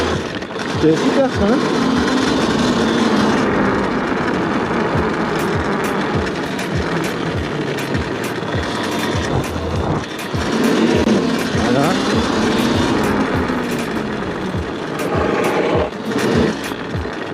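A customised, tractor-styled motorcycle engine revs and pulls hard in sport mode, a buzzing, gritty roar that rises and falls in surges close by for the whole stretch, with someone talking over it.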